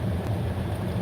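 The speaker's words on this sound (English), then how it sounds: "Got my fans blowing too loud." Fans blowing at high speed give a loud, steady low rumble and rushing air noise, continuous and close, with no voices.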